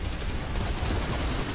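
Dense, chaotic gunfire and explosions in the online shooter Planetside 2, a continuous rattle of shots with sharper bursts throughout, busy and fairly loud.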